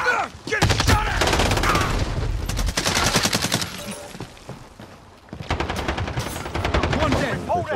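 Rapid automatic gunfire from a Call of Duty: Modern Warfare multiplayer match, loud dense bursts of shots in two long volleys separated by a short lull, with a voice talking briefly.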